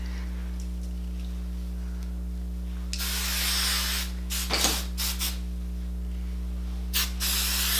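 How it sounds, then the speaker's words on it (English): Hairspray sprayed onto freshly curled wavy hair, several bursts of aerosol hiss, one long spray then short puffs, close and loud over a steady background hum. "I'm gonna put some hairspray."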